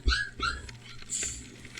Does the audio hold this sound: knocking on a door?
no